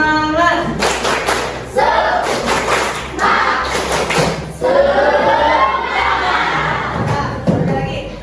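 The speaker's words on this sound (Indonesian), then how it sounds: "Tepuk semangat!" A school class claps in unison with a steady beat, loud and close, in bursts with brief pauses between rounds, and faint crowd voices mixed in.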